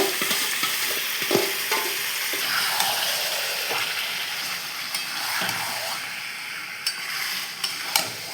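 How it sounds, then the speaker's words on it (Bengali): Chicken meat sautéing in a pan for mustard chicken: a continuous frying sizzle with repeated scraping stirs of a utensil against the pan and occasional sharper clicks, close and moderately loud, with no talking. "এবার আমি এই মাংসটা দিয়ে দেবো"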